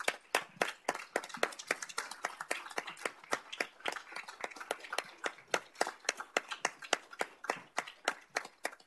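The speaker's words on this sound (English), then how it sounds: "Let's give a round of applause." Scattered applause from a small group at a city council meeting, individual claps distinct and irregular, fairly quiet and sparse throughout.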